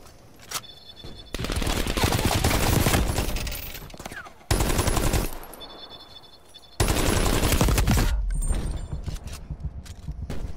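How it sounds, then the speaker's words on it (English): RPD light machine gun in Call of Duty: Black Ops Cold War firing three long sustained bursts of rapid automatic fire, loud and close, separated by short quieter gaps holding faint game ambience. "I'm fucking slaying with the RPD right now"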